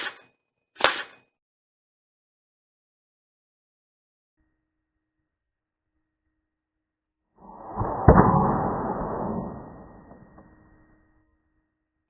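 A small object blown hard through a straw by a trumpet player strikes a music stand with one sharp knock, then a louder burst of rattling and scraping follows as it bounces back and settles, all in an otherwise quiet room.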